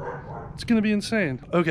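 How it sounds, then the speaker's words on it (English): A dog barks a few times in short, sharp bursts close by while a person talks over it. "Really sorry about the barking dog."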